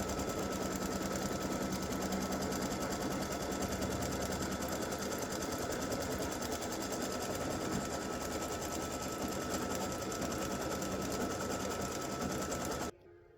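Embroidery sewing machine stitching a free-standing lace Valentine heart, a fast, even mechanical chatter of needle strokes running continuously and fairly faint until it stops abruptly at the end.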